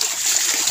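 Water overflows and splashes steadily at the edge of a swimming pool, a brief, soft, continuous hiss and trickle with no voices.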